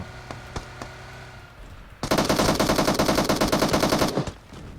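A burst of rapid automatic gunfire in a video game erupts after a few quiet taps, a dense rattling volley lasting about two seconds, loud and close.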